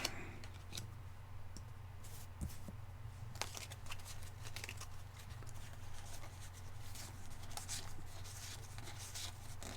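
Angel reading cards being shuffled and handled close by, with quiet soft riffling and scattered sharp clicks over a low steady hum.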